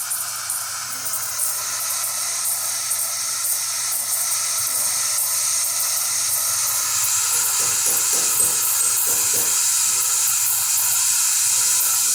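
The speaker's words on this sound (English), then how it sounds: "It needs a bit until it gets hot and steaming." The steam wand of a Breville BES870XL espresso machine, under service and tune-up, hisses loudly and steadily for the whole stretch, with a few faint clicks partway through.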